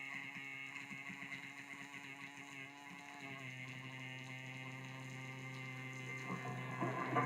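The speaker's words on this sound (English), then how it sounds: "That noise is the just the hash from the vibrator." A steady electrical buzz from the vibrator power supply of a 1948 Plymouth MoPar 802 valve car radio, with a thick low hum and a raspy, harmonic-rich hash on top, continuous throughout and shifting slightly partway.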